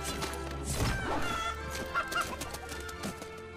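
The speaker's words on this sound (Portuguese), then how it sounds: "Ah, chuta galinha." A kicked chicken in the video game Fable 3 lets out a squawking burst and a few short clucks over background game music and ambience.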